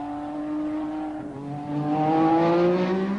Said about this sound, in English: Cosworth have produced an engine with full race boost, and the vicious power induces wheel spin on the wet surface